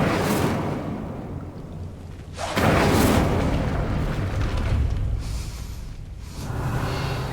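Incendio fire spell in Hogwarts Legacy, heard as a deep booming blast that swells into a roaring burst, followed by further rumbling eruptions and a second surge near the end, loud and close.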